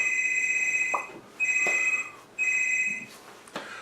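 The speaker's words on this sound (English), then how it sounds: "They're gonna call back, 'cause I'm not picking up the phone." A telephone ringing three times in repeated high electronic bursts with short gaps between them, fairly close over a faint background hiss, with no talking.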